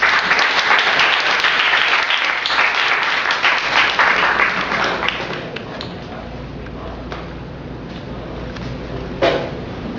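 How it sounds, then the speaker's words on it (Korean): A university student lecture audience gives warm applause as a speaker comes on stage. Loud, dense clapping fills the hall, then thins and fades toward the end. "뜨거운 박수 부탁드리도록 하겠습니다."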